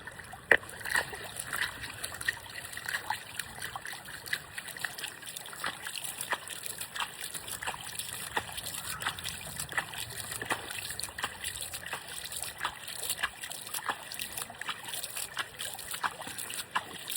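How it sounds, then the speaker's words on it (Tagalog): Water being poured out in a steady, faint splashing trickle with scattered small splats, continuing for a long stretch without pause. "Atin lang ho bubuhusan yung tubig."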